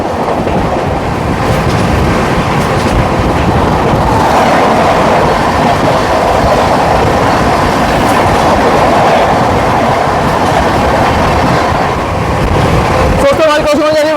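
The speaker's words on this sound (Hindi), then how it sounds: "दोस्तों हमारी क्रॉसिंग होने वाली है 12314 शारदा राजधानी एक्सप्रेस के साथ।" Loud, steady rumble and rhythmic clatter of a passenger train running on the Tatanagar–Delhi route as the Sharda Rajdhani Express passes alongside, with a sharp tonal screech near the end.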